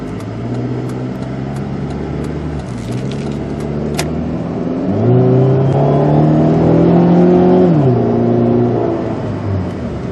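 A Chrysler PT Cruiser engine hums at idle, then accelerates into a rising, steady drone heard from inside the car, with a light jingle of keys early on.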